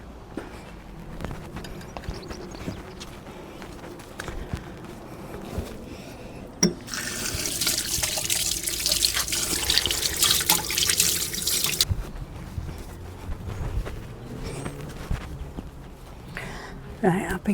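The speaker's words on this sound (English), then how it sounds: "Right, I've been to wash my hands." Hands washed under a running tap at an outdoor garden plot, water splashing loudly for several seconds amid background noise and scattered voices.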